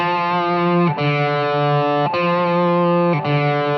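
Sustained distorted electric guitar chord riff, a 5-3-5 chord over a low C on the sixth string, loud and steady, with brief breaks as the chord is re-struck about once a second.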